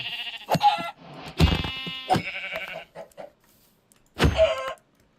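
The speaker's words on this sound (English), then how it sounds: "And there's a third sheep." Several loud, wavering sheep bleats in modded Minecraft ring out close by, separated by short pauses, with a final bleat after a longer gap.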